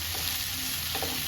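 Okra frying in a pan of tempering oil sizzles steadily, with a couple of soft scraping stirs, close and with no talking.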